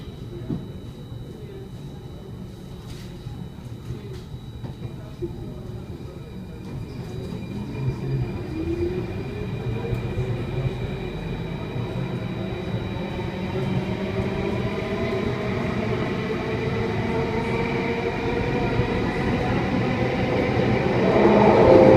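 An SMRT C830 metro train in Singapore runs between Promenade and Dhoby Ghaut with a steady close rumble that swells louder toward the end, joined by a faint high whine and occasional clicks.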